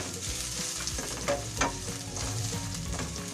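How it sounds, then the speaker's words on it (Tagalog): Garlic frying in a pan while being stirred, a continuous close sizzle with occasional scraping strokes of the spatula and no talk over it. "Halo-haloyin po natin para hindi po masunog ang ating bawang."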